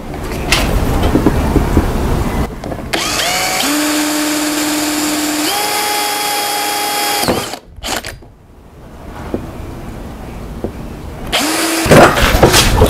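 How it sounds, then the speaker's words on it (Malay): Power drill with a 9 mm bit boring holes in an aquaponics pipe, a loud close whine that rises and settles in pitch, with stops and restarts between holes. "Untuk lubang ni saya gunakan drill bit saiz 9mm."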